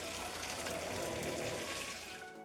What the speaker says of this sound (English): Now we're going to pour the beef stock.